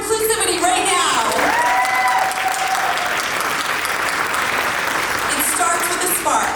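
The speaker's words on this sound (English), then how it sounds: "Let's give an applause for inclusivity right now" At a business awards ceremony, a crowd breaks into loud, sustained applause with a few whistles and cheers rising above the steady clapping, then the clapping tapers off.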